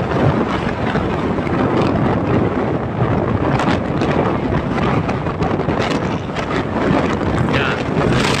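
Heavy wind buffets a phone microphone while travelling, a loud continuous roar with constant rumbling gusts and no pauses.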